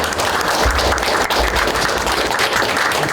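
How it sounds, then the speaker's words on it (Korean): A lecture audience applauds to welcome a professor, a loud, dense and continuous roar of clapping filling the short moment without any voices. "뜨거운 박수로 좀 받아주세요."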